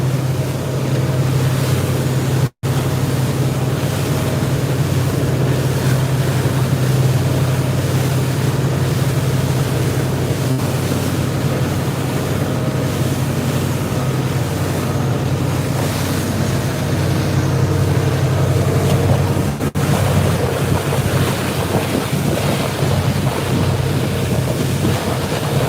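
Small boat running across open ocean off the Channel Islands, a steady low engine drone under continuous rushing wind and the hiss of waves and spray, close and loud throughout with no talking.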